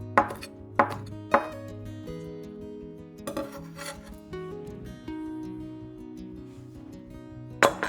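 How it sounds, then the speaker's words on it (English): A knife strikes a cutting board in a few sharp, separate chops through scallions, with gaps between them, close and crisp over soft background music. "Reserve the scallions, and the rest into chopped scallions."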